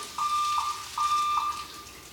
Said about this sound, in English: And we have our alarm.